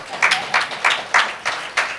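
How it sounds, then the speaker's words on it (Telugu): Scattered, rhythmic hand claps from a small audience at a book launch, about six distinct claps in steady succession, moderately close and fairly light. "చప్పట్లు కొట్టాలి, అది అతనికి చెందుతాయి."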